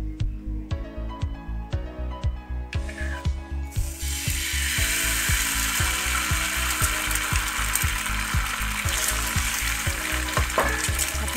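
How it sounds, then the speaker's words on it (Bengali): Beaten egg spooned onto a hot tawa griddle: a run of evenly spaced mechanical clicks, then a sudden loud, bright sizzle that holds steady, with faint rhythmic clicks continuing underneath. "ডিমগুলো আমি চামচ দিয়ে নিয়ে নিয়ে তাওয়ার উপরে দেব"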